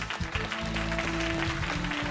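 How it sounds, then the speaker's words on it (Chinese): A television studio audience claps to welcome a guest doctor onto a health talk show, a steady, dense burst of applause filling the whole moment without a break. "掌声欢迎丁医生"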